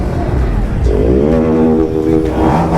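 A motorcycle engine revs at a bike expo, its pitch rising and falling in a short throaty surge, close and loud amid crowd noise and voices.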